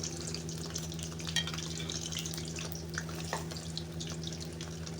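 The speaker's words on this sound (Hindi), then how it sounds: "मैं फ्राई कर रही हूँ समोसे।" Samosas frying in hot oil in a home kitchen give a steady, faint sizzle and bubbling hiss, with occasional soft clinks of utensils over a low background hum.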